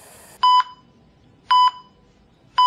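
An electric pressure cooker sounds its ready signal: three loud, clear electronic beep bursts evenly spaced about a second apart, with quiet room tone between them.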